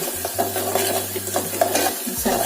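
A spoon stirs spices into a fenugreek greens curry in a pan, making brief close scraping and soft clinking strokes over a low sizzle.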